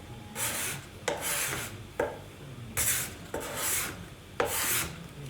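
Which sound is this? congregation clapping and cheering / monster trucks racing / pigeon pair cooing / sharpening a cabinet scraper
sharpening a cabinet scraper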